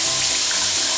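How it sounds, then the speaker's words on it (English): A kitchen tap runs cold water into a cup in a steady, broad hiss that holds unbroken and close throughout, with no talking over it. "I'm going to fill this up with cold water"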